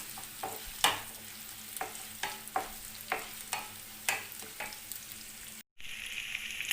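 Fried chicken tossed with chopped large green chillies in a hot pan for Chicken 65, with a steady sizzle and a regular run of spatula scrapes, close and clear, then a brief cut near the end.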